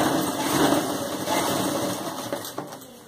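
Sewing machine running a long stitch along the crotch seam of a khajuri salwar, a close, steady motor whir with a fine rattling texture and a sharp tick near the end, no talk.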